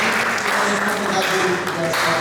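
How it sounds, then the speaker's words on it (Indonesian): Congregation applauding in a church service, a dense steady wash of clapping heard up close that fills the whole moment, with some voices mixed in beneath it. "kita tepuk tangan dulu buat hamba Tuhan yang menyanyi"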